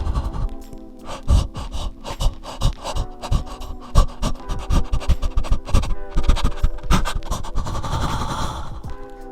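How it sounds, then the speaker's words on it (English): Heavy, rhythmic panting with loud, rasping breaths in and out, close and intense, quickening toward the end. "You guys want heavy breathing?"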